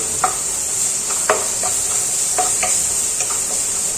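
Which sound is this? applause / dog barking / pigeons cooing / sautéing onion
sautéing onion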